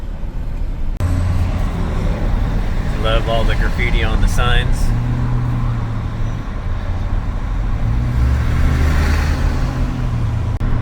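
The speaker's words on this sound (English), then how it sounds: "Just normal Seattle traffic. Stop and go, stop and go," Stop-and-go highway traffic in Seattle heard from inside a vehicle, a steady loud road and engine rumble with passing vehicles throughout, while a person speaks briefly partway through.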